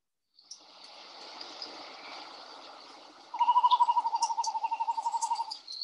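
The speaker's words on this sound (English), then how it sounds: "And that's the call of the male frigate bird." A male frigate bird on the Seychelles islands calls alone, a soft breathy whistle followed by a louder, rapid rattling trill of about twenty pulses, close and clear.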